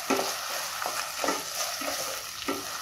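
Egg Manchurian with soy sauce stirred in a hot pan, a continuous sizzle with regular scraping strokes of a spoon roughly every half second, close and clear, no talk.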